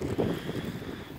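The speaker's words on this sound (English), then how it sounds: "A little windy out." Gusty wind buffets the microphone in a steady low rumble, with no talking.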